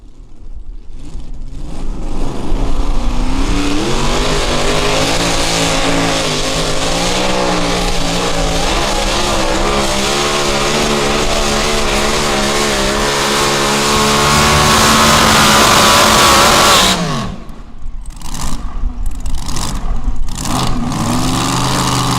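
A pulling vehicle at a summer nationals pulling event, its engine roaring loud and close, held hard at the rev limiter in a sustained buzzing drone for most of the run before the pitch drops away near the end.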